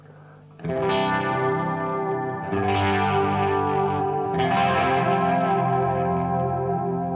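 Electric guitar chords ringing out with a shimmering chorus effect, three strummed chords each left to sustain, thick and swirling.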